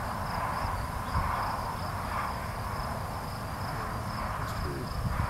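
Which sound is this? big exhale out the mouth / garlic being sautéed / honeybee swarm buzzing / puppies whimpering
honeybee swarm buzzing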